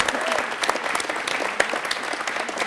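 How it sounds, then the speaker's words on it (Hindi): A studio audience at a televised quiz show claps, a lively continuous patter of many hands with a few sharper claps standing out, close and fairly loud. "तालियां एक बार इसके लिए जोरदार होनी चाहिए यार।"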